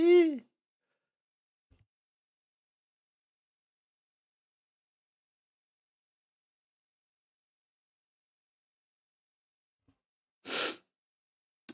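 A single sharp sneeze at the start, then near silence, followed by a second loud burst of sneeze-like breath near the end.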